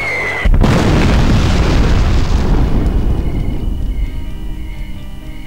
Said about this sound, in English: Fire the missile!